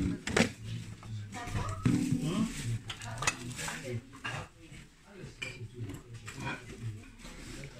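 Porcelain plates and other ceramic tableware being lifted and handled in a box at a German flea market, giving irregular clinks and clatters up close, with quiet talk in between.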